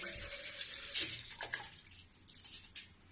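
Soaked rice and its soaking water are poured into a grinder jar, giving a quiet, brief splash followed by soft trickling and a few drips.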